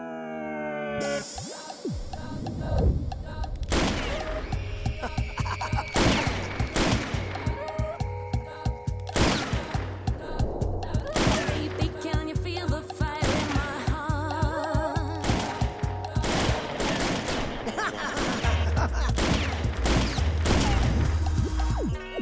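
Rapid gunfire bursts at a wedding celebration, a loud continuous barrage of shots and crashes with dense overlapping reports, sustained for over twenty seconds, with faint voices beneath.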